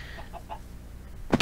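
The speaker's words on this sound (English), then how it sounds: "we still have the chickens in here" Minecraft chickens cluck in a few soft, quick clucks over a low background hum, then a louder burst of noise cuts in at the end.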